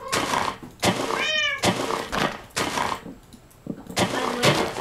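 Minecraft cats meowing repeatedly in a game world, several clear mews at close range with a rough rumbling burst mixed between them and no talking.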